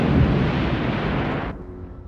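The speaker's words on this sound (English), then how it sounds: "They just destroyed the planet with one hit." A planet explodes in Star Wars: Episode IV – A New Hope (1977), a loud sustained roaring blast that rumbles on and then cuts off abruptly into a quieter fading tail.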